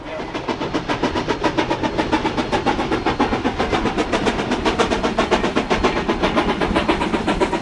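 A Durango & Silverton Railroad train pulls out of Durango, its steady rumble carried on a regular rhythmic chuffing beat that pulses evenly and stays fairly close throughout.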